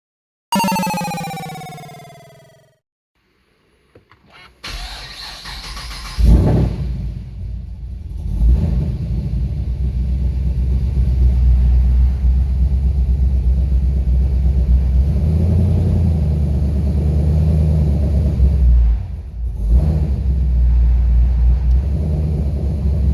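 An HSV VF car with a 6L80 automatic gearbox idles at close range after a short sweeping tone and a pause, its engine settling into a steady low rumble with a brief surge around one-third in and a dip near the end, no voices.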